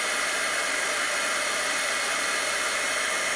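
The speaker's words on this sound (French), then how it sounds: "on va attendre que le pistolet chauffant fasse gonfler la peinture." Heat gun blowing on puffy embossing paint for a snow effect in papercraft, a loud, steady, close-up rushing blast of hot air that holds unchanged throughout.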